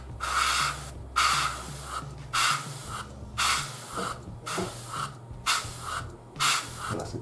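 Airbrush sprays paint onto a Tamiya 1/48 Spitfire Mk.1 scale model in repeated short hissing bursts, each about a second long with brief pauses between, close and steady.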